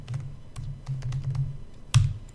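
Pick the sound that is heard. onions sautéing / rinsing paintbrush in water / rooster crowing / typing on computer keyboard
typing on computer keyboard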